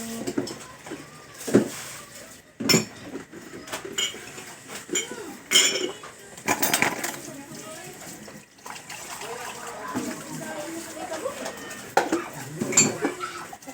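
Plates and cutlery being washed under running water, with repeated clinks and clatters of dishes, some sharp knocks, and people talking over the washing.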